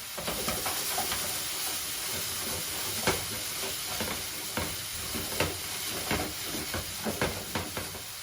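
Onion and capsicum sizzle in a pan while dahl is being cooked, a steady dense frying hiss with occasional sharper crackles and stirring clicks, close up and with no voices.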